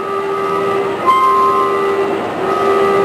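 A loud, steady siren or horn blares with a sustained tone that wavers slightly, holding continuously throughout, during a press conference at Campus Party 2010.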